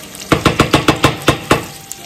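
Caramel sauce is spooned over apples sizzling in a pan for tarte tatin, about eight quick, evenly spaced scraping taps against the pan over a soft sizzle.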